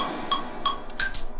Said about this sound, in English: And then we've got a shaker, which I reversed, stretched out, and multiple pitches laying on top of each other